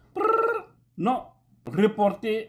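A voice imitates a ringing telephone with short rolled 'prrr' bursts, three or four in a row separated by brief pauses, close and clear, with speech mixed in.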